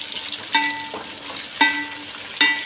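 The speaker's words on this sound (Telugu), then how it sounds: "ఆనియన్, పచ్చిమిర్చి వేగిన తర్వాత కరివేపాకు వేసుకుందాం." Curry leaves fry in a pan with onion and green chillies, giving a continuous sizzle broken by three sharp stirring scrapes at regular intervals.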